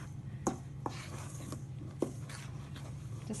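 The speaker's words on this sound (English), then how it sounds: "I'm just going to spoon mix that." A spoon working nan bread dough in a bowl gives soft, irregular knocks and scrapes, a few sharper taps among quiet stirring close by.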